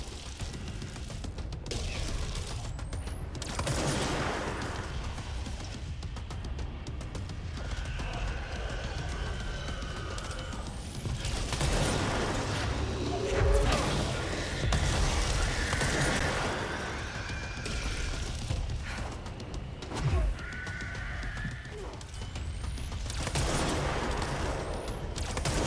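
The Pierce service weapon fired in the video game Control, heard as scattered, fairly quiet bursts of shots and mechanical clatter spread across a long stretch of busy in-game ambience, with no talk.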